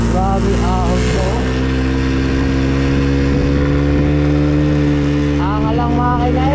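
A motorcycle engine strains and revs steadily in first gear as it climbs a steep uphill, loud and close, with a person calling out briefly over it.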